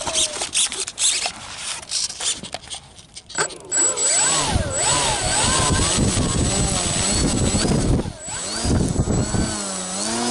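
Radio-controlled model airplane flying a circuit on a farm, a whining, buzzing motor whose pitch rises and falls as it passes, with people talking nearby.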